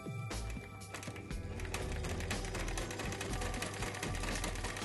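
Singer 319 sewing machine stitching a zigzag with a wide needle swing, a fast close mechanical chatter of rapid ticks that pauses briefly near the start and then runs steadily and loudly to the end.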